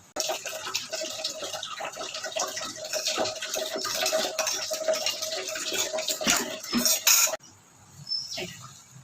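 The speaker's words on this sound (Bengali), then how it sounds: "এটাকে ধুয়ে জল দিয়ে দেবো।" Water runs steadily from a tap while a bowl of poppy seed paste is rinsed out and poured into a pan for a tilapia dish, a close continuous splashing stream that stops abruptly, followed by faint clinks.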